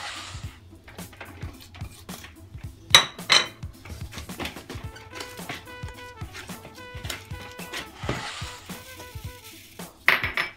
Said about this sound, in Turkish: Ardından her birine malzemesini döküp karıştırıyoruz.